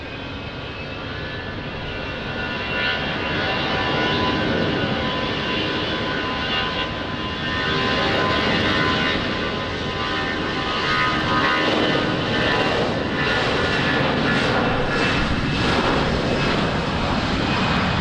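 Aircraft engines at Lisbon Airport drone loudly and steadily for the whole stretch, swelling slightly toward the end, with no voices.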